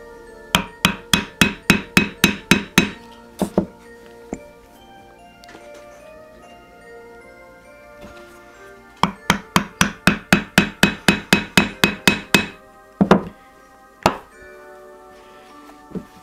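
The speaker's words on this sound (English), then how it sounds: "first we punch the two holes in" A hammer drives a small nail to punch two holes, heard as two quick bursts of sharp, evenly spaced metallic taps, close and loud, separated by a few scattered knocks.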